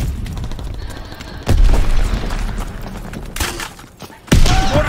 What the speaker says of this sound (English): Mortar shot out!